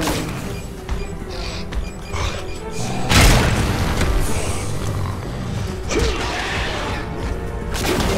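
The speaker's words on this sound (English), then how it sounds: "Got an explosive in it, get out of there." A loud, sudden boom at about three seconds rises over dense game noise, followed by rumbling, crashing debris and mechanical creaks.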